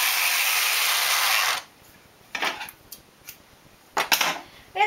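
Knitting machine carriage pushed across a row with spool yarn, a long sliding rasp followed by a few short clicking mechanical bursts, close and with no talk.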